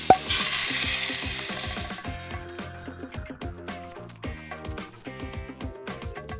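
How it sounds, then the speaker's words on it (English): Minced garlic hits a pan of sautéed onions with a sudden loud sizzle that hisses brightly for a couple of seconds and then fades beneath rhythmic background music. "Now that my onions are sautéed, I'm going to add a tablespoon of minced garlic."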